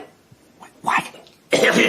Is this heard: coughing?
yes